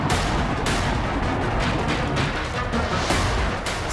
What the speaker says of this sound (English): the Kinzhal hypersonic air-launched cruise missile, seen here smashing into a Ukrainian underground weapons depot